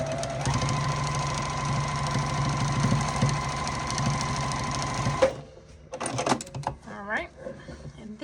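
A sewing machine stitches fabric for an easy sewn gift basket in a loud, fast, steady whir for about five seconds, then stops, followed by a voice talking close by.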